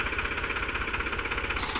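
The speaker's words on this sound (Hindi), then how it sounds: "पावर ट्रैक यूरो ट्रैक्टर है 50 HP का और 7 फुटा जंगजीत का सुपर सीडर है।" A 2019 Powertrac Euro 50 HP tractor running a 7-foot Jangjeet super seeder, its engine a loud, steady, close knocking drone with a rapid, even pulse throughout and no talk.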